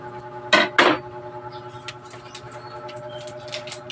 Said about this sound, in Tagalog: Maghuhugas ako ng pinggan.